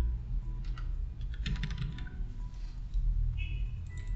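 A few sharp, quick mouse clicks close by, sounding in a short burst over a steady low background hum, with a little keyboard tapping.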